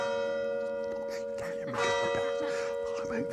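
Church bells ring steadily with a sustained metallic tone, loud and continuous under someone speaking throughout.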